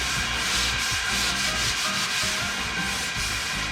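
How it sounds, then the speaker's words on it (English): Steady abrasive scuffing by hand along the edges of a Z28 car's body panels, a continuous close gritty rubbing with slight strokes and no voices, as the metal is prepped for primer. "I'm gonna hand scuff some of these edges."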